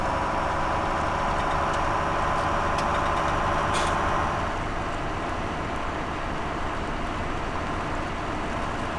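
Tractor engine in Farming Simulator 17 idles with a loud, steady, droning rumble and a faint whine above it, continuous for the whole stretch, with no talking.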